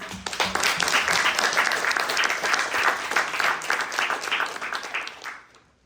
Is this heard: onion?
no